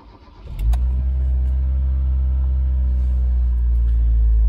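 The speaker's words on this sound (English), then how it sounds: "So I'm going to start up the engine and see what's going to happen to the output voltage." A cold car engine cranks briefly and catches, then settles into a loud, steady idle with a deep low rumble that continues unbroken to the end.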